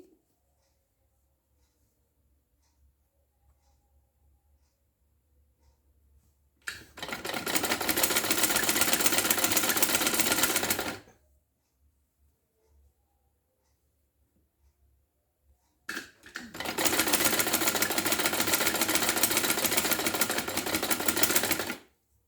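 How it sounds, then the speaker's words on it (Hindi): Sewing machine stitching a lace sleeve, two separate runs of fast rhythmic clattering of about four and six seconds each, with near silence before and between them. "तो ये पूरी सिलाई हम कर रहे हैं, दोनों साइड से सिलाई होगी।"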